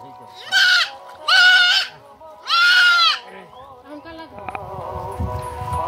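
A goat and her kid bleat during a rescue from a pond, three loud drawn-out cries in a row followed by fainter calls and rustling nearby.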